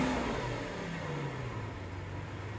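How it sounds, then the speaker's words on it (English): A Lamborghini Veneno Roadster's V12 fires up, a loud, close engine rumble that settles into a steady, throaty idle after the start, with no talking. "The V12 comes to life."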